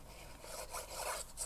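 Glued paper gift card being folded by hand at close range, giving a soft, continuous papery rasp and rub with a few brighter crinkles over about a second and a half.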